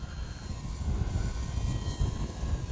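Arrows Husky Ultimate RC model airplane flying in an 8 to 10 mph wind, its steady engine drone continuous and fairly loud with wind noise mixed in.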